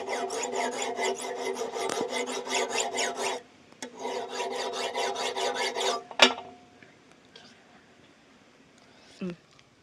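A steel kitchen knife is sharpened with quick, close rasping strokes in two long bursts separated by a short pause, followed by a sharp metallic scrape and then near quiet with a few faint knocks.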